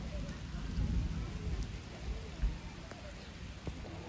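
Rain falls steadily at a zoo in Stuttgart, a constant close patter with low rumbling wind noise and a few sharper drops, no voices standing out.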